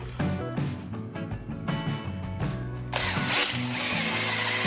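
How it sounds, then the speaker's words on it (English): A honing tool works inside a cylinder bore of a junkyard small block Chevy engine, first as a series of short rhythmic grinding strokes, then as a louder, continuous rough scraping whir near the end. "So just got to use the honing tool evenly up and down the bore."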